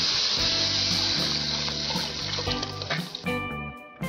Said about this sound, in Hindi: अब बर्तन में जितना भी बेसन लगा हुआ है उसे पानी से अच्छे से साफ कर वापस से भगोनी में ही डाल देंगे